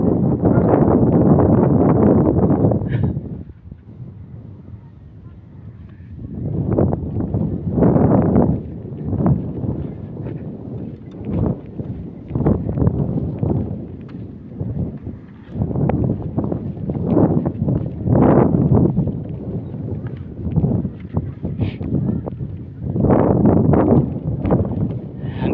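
Strong gusting wind buffets the microphone on a hanging bridge in Al-Ahsa, Saudi Arabia, coming in loud, broadband rushing bursts that rise and fall repeatedly, with no speech.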